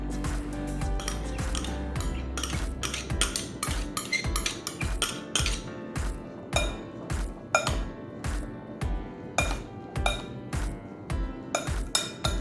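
Ingredients for plantain cups beaten in a bowl, a fast rhythmic series of clinking, tapping strokes of utensil against dish, loud and close, slowing into more spaced taps toward the end.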